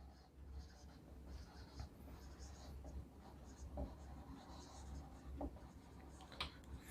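Faint, scratchy strokes of writing on a board during a physics lecture come in short bursts over a low steady hum, recorded quietly.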